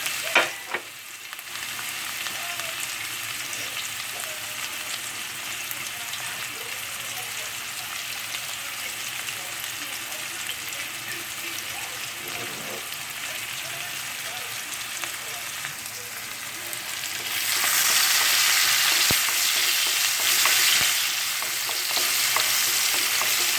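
Onion fries in a pot for chicken arroz caldo, a steady close sizzle that swells louder and brighter for several seconds toward the end, without talking.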